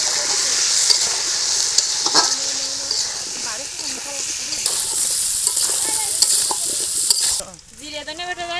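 Large potatoes and turmeric fry in a pan while being stirred. A loud, steady sizzle is broken by scraping stir strokes, and a voice talks over it throughout.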